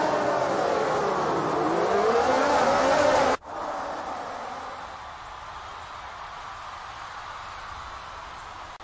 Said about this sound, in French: C'est un bon départ pour le Mercedes de Lewis Hamilton et Valtteri Bottas